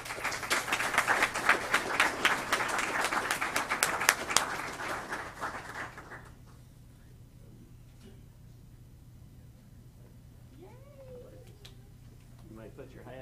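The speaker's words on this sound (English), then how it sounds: "please give Alexis a round of applause" A small crowd at a signing day event at a technical college claps for Alexis, brisk clapping for about six seconds that stops abruptly, leaving a low hum and a few faint voices.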